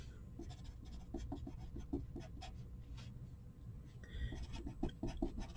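A pen scratches out a handwritten hypothesis for a matrix eigenvalue proof in soft, quiet, close-up strokes and taps, with brief pauses between words.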